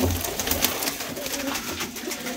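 Soft, low cooing from a flock of about 150 to 200 Punjabi pigeons, with rustling wings and scattered flutters filling the background.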